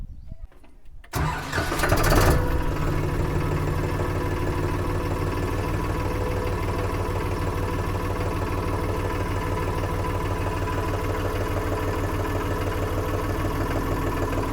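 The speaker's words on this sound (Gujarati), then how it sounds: "હવે આપણે ટ્રેક્ટર ચાલુ કરીને તમને છે ને ટ્રેક્ટરનો અવાજ પણ સંભળાવી દઉં" A Farmtrac Promaxx tractor engine turns over and catches, then settles into a steady, loud, rumbling idle that continues without a break.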